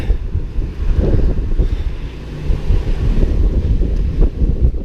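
Strong wind from Typhoon Ulysses near Alaminos buffets the microphone in loud, low, continuous rumbling gusts that rise and fall without pause.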